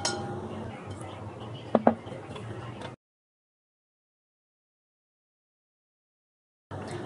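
A spoon taps against a bowl while stirring a cornflour chocolate dessert mix, two quick sharp clinks over a faint kitchen hush, then the sound cuts out to silence.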